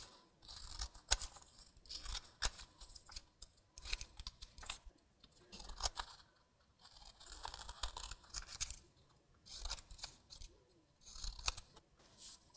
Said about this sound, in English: Then we're going to cut out this perimeter.